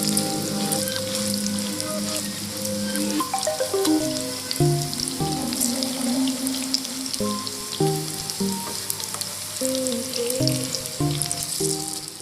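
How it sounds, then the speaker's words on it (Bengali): Noodle pakoras fry in hot oil over a low flame, giving a steady, dense crackling sizzle with scattered pops that runs unbroken throughout. "এবার আমি এগুলো লো ফ্লেমে 3-4 মিনিট ধরে ভেজে নেব"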